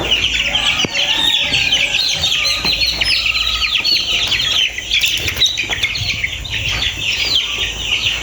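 Hens and roosters on a poultry farm cluck and squawk continuously, many birds close together in a busy, loud chorus, with scattered sharper calls and occasional wing flaps rising above the steady clucking.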